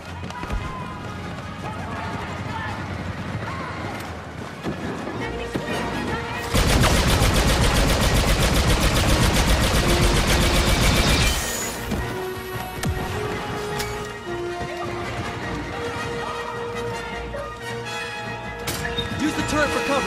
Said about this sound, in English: Laying down covering fire.